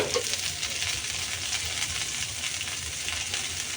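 Coriander leaves fry with chillies in a pan for a garlic bharta, giving a steady close sizzle and crackle with no talking over it.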